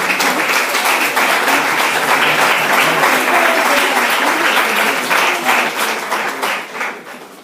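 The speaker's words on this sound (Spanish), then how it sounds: "Así que por favor les pedimos otro aplauso." An audience at the close of a conference on cross-border cooperation breaks into dense, steady applause that carries on loud and continuous, then tapers off toward the end.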